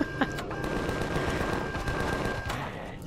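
Rapid automatic gunfire rattles in Empyrion while shooting at enemies, a dense continuous burst with sharp individual cracks, loud and close for the whole few seconds.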